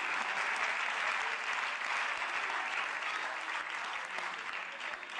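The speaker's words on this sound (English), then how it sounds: "Come on, somebody clap your hands." A church congregation claps hands in sustained, even applause, a dense wash of clapping heard from within the room with no break.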